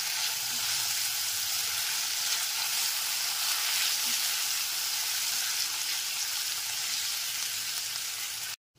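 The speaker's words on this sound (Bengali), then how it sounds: "গ্যাসের ফ্লেমটা লোতে রেখে এবার এটা কষিয়ে নিতে হবে।" Ginger and green chili paste sautés in a pan over a low gas flame, giving a steady, close, even sizzle that runs continuously before cutting off abruptly at the end.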